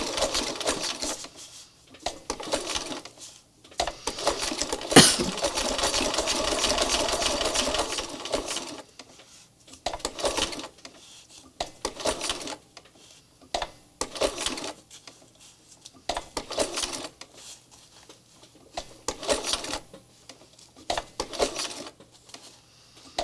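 A sewing machine stitching a small cloth spirit doll, running in short bursts of rapid whirring stitches separated by pauses, with a longer run near the start and stop-start stitching afterward, close by.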